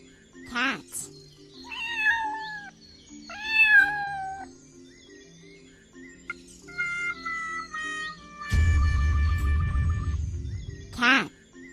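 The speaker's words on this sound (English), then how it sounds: "Cat." A cat meows several times in short, rising calls over a soft musical backing, with a burst of broadband noise near the end and a final meow.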